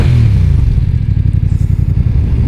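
BMW F900R motorcycle engine with airbox intake noise, a loud, close, steady low throb with rapid regular pulsing, running continuously with no talk.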